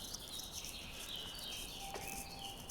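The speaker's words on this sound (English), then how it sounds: "But you hear all those birds?" Birds chirp and trill outdoors in springtime, faint and distant high calls repeating over a soft, steady ambient hiss.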